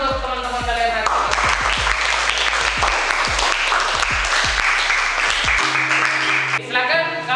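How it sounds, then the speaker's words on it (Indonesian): A classroom of students gives a round of applause for a group that has just presented, with brisk clapping for several seconds between stretches of sustained tonal sound and voices. "Jadi tepuk tangan untuk teman-teman kalian hari ini."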